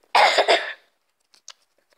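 A sick man gives one loud, close, harsh cough burst with a couple of quick pulses, then near silence with faint small clicks.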